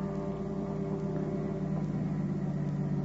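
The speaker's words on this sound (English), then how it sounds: "There's a car coming now, Paul." A car engine heard as a radio drama sound effect rumbles with a steady, low hum at moderate volume, keeping an even level throughout with no voices over it.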